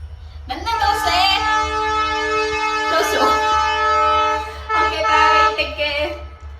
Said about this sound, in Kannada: ನಮ್ಮ ಟ್ರೈನ್ಗಳು ಎಬ್ಬಿಸುತ್ತೆ ಬಿಕಾಸ್ ನಮ್ದು ರೈಲ್ವೆ ಟ್ರ್ಯಾಕ್ ತುಂಬಾ ಹತ್ರ ಇದೆ